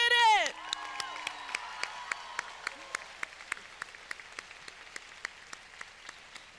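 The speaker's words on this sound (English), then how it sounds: "Graduates, give yourselves a round of applause." Graduates at a 2023 high school graduation ceremony clap for themselves, a brief swell of applause after a short voice that quickly thins into scattered, echoing individual claps in a large reverberant space.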